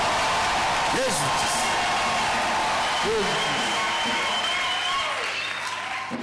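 Worshippers at a church service applaud and cheer loudly in a sustained wash of clapping and shouts, with a few voices rising and falling through the crowd noise until it fades slightly at the end.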